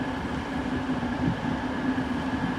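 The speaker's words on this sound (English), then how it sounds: "the 1358 East Midlands Railway service from Crewe to Newark Castle" An East Midlands Railway service at Nottingham station runs as a steady rail rumble with a constant hum. The sound stays even for the whole stretch, with no distinct clatter or horn.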